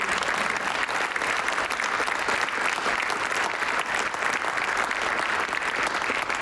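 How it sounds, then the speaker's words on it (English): A lecture audience gives a sustained round of applause, thick and even clapping that runs steadily from start to finish, with no one speaking over it. "Let's please once again give a great round of applause to Mina and Adam for this fantastic work."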